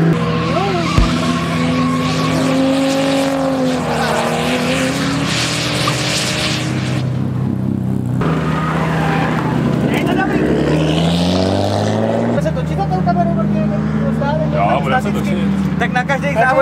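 Nissan Skyline drift car at a drift test day in Hradec Králové, its engine revving and wailing with shifting pitch alongside screeching tire squeal, loud and close, while a person talks over it.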